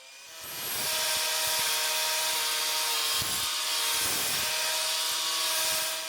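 Miter saw cutting a slot in wood at a 45-degree angle, a loud, continuous broadband whine with rhythmic bursts as the blade passes through, heard alone for about five seconds.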